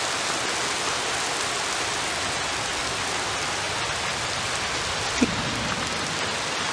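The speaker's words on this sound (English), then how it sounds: "Today, yeah, it's literally raining right now." Steady rain pours down on a golf course in an even, continuous hiss, with one brief soft knock near the end; no voices.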